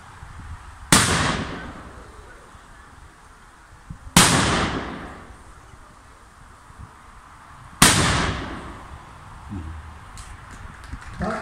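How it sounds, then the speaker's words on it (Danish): Three booming cannon salute shots fire outdoors at a festival, each a sharp loud blast with a long rolling echo, spaced several seconds apart, with faint crowd noise in between. "så skal vi have en kanonsalut"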